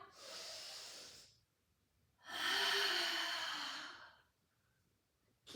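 Deep breaths during a Pilates mat class: a long, close, airy inhale, a quiet pause, then a second fuller breath, with no talking.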